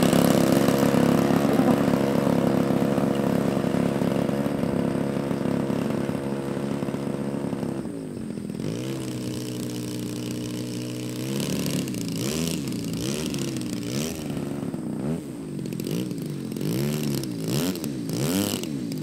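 A model airplane engine powers a Phoenix Stinson Reliant RC plane in flight, a steady buzzing drone that shifts pitch and wavers up and down as the aircraft passes, continuous throughout.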